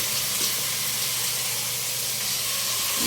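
Pork for nilaga is sautéed in a pan, giving a constant close sizzling hiss that stays steady from start to finish with no talking over it.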